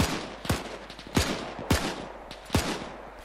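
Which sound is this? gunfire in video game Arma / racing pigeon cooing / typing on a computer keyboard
gunfire in video game Arma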